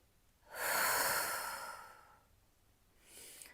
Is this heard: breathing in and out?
yes